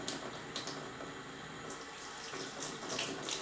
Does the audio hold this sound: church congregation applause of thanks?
no